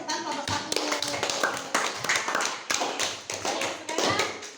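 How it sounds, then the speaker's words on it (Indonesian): Classmates clap for group 1 in a school classroom, a loose patter of hand claps close by, with children's chatter mixed in under the clapping. "berikan tepuk tangan kelompok 1"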